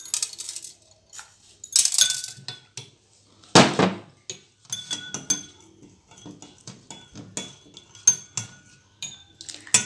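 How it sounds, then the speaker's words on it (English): Rice grains pour and scatter into a glass of water in short rattling bursts, with sharp clinks of hard bits striking glass, close by and fairly loud. "In fourth glass, I am adding rice."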